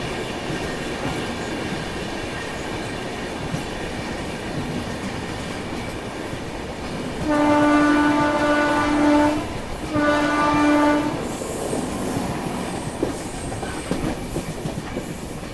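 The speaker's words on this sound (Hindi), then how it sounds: "सामने से आ रही है मुंबई की ओर जाने वाली सेंट्रल रेलवे सिया राजधानी, धीरे धीरे अपने सफ़र में घाट सेक्शन में चढ़ाई शुरू करते हुए" Central Railway Rajdhani Express climbing a ghat section on the way toward Mumbai, with a steady rumble of passing wagons and two long loud horn blasts sounding close by, without speech.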